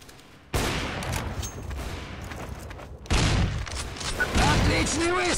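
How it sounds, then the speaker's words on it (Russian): Gunfire in Counter-Strike: Source, with bursts of rapid shots and booming reports that start abruptly, pause briefly, then resume louder, with a voice talking over parts of it. "Отличный выстрел!"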